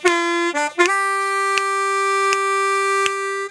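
Acoustic blues harmonica lick: three short draw notes with a whole-step bend, then a long sustained reedy tone pulsed by light breathy accents, close and clear with no talking.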